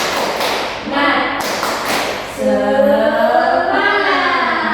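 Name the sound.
class clapping a rhythmic spirit clap (tepuk semangat)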